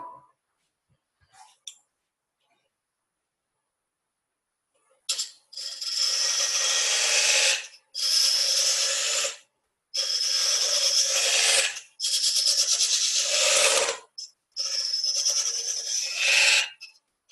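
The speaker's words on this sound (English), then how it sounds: "this is the little spindle gouge I have that's very pointy, that allows me to get down into those tight little areas" A small, pointy spindle gouge cutting wood on a lathe, shaping beads, fillets and coves, in five bursts of bright, hissing shaving noise separated by short pauses after a quiet start.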